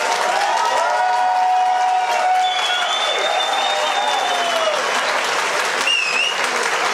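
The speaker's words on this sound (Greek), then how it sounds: "θα ήθελα να ξαναζητήσω το πιο ζεστό χειροκρότημά σας" Sustained warm applause from the audience at a Pontic Greek association dance evening in Augsburg, steady and dense clapping with some cheering throughout, and a faint whistle near the end.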